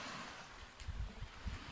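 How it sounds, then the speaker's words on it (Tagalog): Sea waves washing onto a beach at night, a soft continuous surf rush with low rolling swells rising and falling, faint and distant with no talking. "Dito na kami sa dagat."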